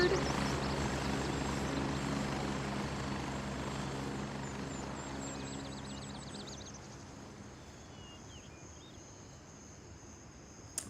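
A helicopter in a video game gives a steady rotor drone that slowly fades over about ten seconds, with faint insect-like chirps and brief high warbles above it.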